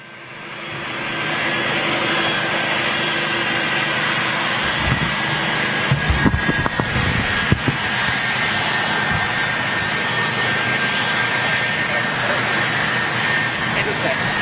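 An airliner at Heathrow Airport takes off with a loud, sustained jet engine roar that builds within the first seconds and holds steady, while someone talks over it.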